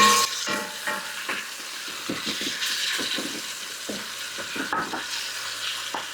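Food seasoned with pepper and salt browns in a pan, giving a steady, close sizzle with soft scraping stirs every so often, all without speech.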